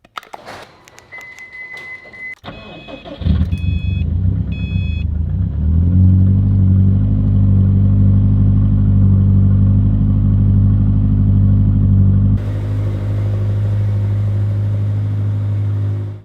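A Mitsubishi Lancer Evolution X engine starts with a sharp crank and then idles steadily, a loud low rumble holding for several seconds with a slight shift near the end.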